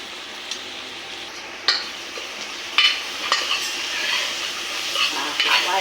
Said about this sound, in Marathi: कांदा घालणार कांदा चांगला परतून घेणार